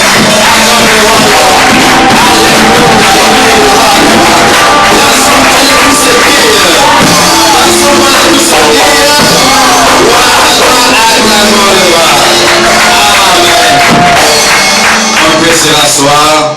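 Church congregation standing to cheer and acclaim Jesus during a worship service, a dense, loud, continuous roar of shouts, whoops and yells from many voices sustained throughout.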